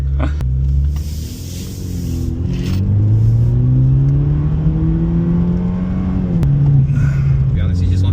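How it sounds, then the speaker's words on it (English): A loud small-engine car exhaust revs up and holds a raspy, droning note, then drops and climbs again, close by with no one talking. "that muffler delete exhaust note is obnoxious"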